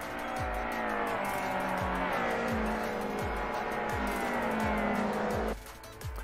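Race cars, classic Soviet-era saloons at the Nemunas Ring circuit, roar past at the finish of a race. Loud sustained engine drone with repeated gear shifts, then an abrupt drop as a car moves away.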